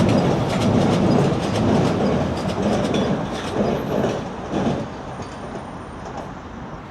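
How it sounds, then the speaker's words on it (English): A loud train rumbles past close by, with steady roaring noise and rhythmic clickety-clack from the wheels on the rails. "There's a big train coming there."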